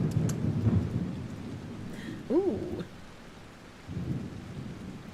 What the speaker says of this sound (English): I like the rain sounds.